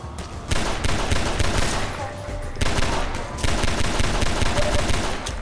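Gunfire in Half-Life 2, rapid loud bursts of automatic shots in two long volleys with a brief pause between them, close and dominant.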